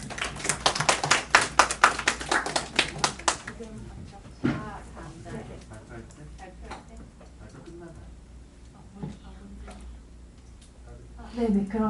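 Audience applause at a MICE industry forum, a burst of claps over the first few seconds that fades into room noise, scattered taps and murmuring voices, with talk following.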